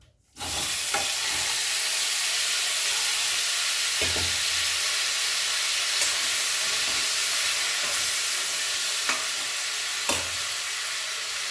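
Chopped tomatoes frying in hot oil for a tomato and coriander chutney, a loud steady sizzle that runs the whole time with a few soft stirring clicks and no voices.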